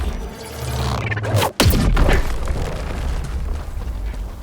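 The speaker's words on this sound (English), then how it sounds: "Orbital rail cannon." An orbital rail cannon strike in Helldivers 2 lands with a sharp, loud crack followed by a heavy booming explosion and a rumbling tail that fades over several seconds.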